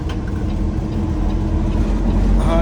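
Loaded lumber truck's engine droning steadily through a gear shift, a loud close low rumble from inside the cab that barely changes pitch, with a brief rise near the end and no talking.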